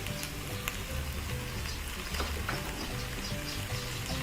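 Spicy shark meat stir-fries in a pan, a close, steady sizzle with scraping stirring and small crackles throughout, no talk.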